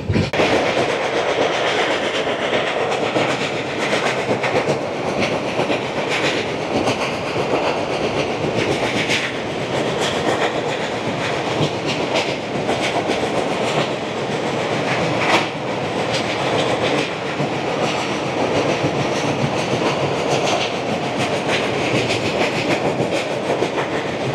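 Samaleswari Express passenger train crossing the Tel river bridge near Titlagarh, a steady loud rumble with continuous clickety-clack of wheels from on board, unbroken for over twenty seconds.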